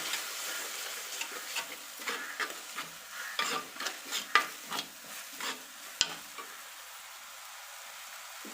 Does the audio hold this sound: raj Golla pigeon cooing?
no